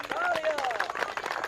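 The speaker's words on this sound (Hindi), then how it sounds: "तालियां" Crowd clapping and cheering at a rally-like gathering in a film, a steady dense wash of applause mixed with crowd babble and a voice rising over it, lasting the whole moment.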